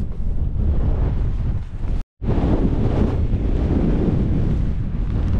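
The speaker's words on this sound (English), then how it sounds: "it's pretty blustery up here" Strong, blustery wind batters the microphone on an exposed mountain hike, a loud continuous roar with one abrupt dropout midway, no voices heard.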